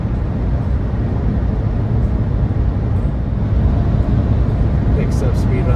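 A 2025 Fiat 500e electric car picking up speed on a highway, with a steady, loud broadband road and wind roar inside the cabin that holds constant throughout, no engine note standing out.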